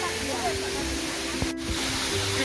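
Dlundung Waterfall gives off a steady, loud broadband rush of falling water that stays unbroken throughout, with faint voices and brief bumps mixed in.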